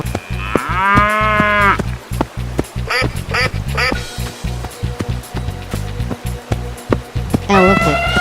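A cow gives a long, loud moo early on and another near the end, set over a driving rhythmic music beat with brief squawky calls in between.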